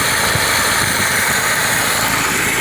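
A 1963 Alfa Romeo Giulia with a 1600 engine idles nearby, producing a loud, steady rumble with broad mechanical noise and no talk.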